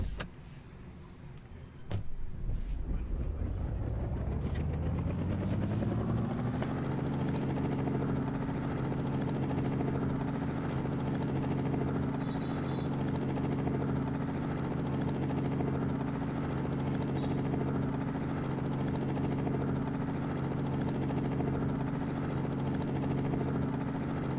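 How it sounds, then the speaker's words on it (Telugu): A video game helicopter engine starts with a rising whine and spins up over several seconds into a loud, steady rotor drone that continues throughout. "ఇప్పుడు మనం ఈ హెలికాప్టర్ని అయితే ఒకసారి స్టార్ట్ చేసి చూద్దాం"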